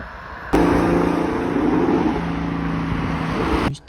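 A Ford Mustang drives through an underground tunnel, its engine a loud, steady, reverberant rumble that kicks in abruptly and holds for about three seconds before cutting off.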